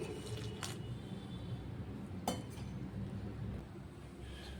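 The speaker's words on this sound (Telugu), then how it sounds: "ఇందులో కొద్ది కొద్దిగా వాటర్ వేసుకుంటూ పిండిని కలుపుకోవాలి" Water is added little by little to flour while mixing dough, heard as a steady wet pour and swish with a couple of faint clinks.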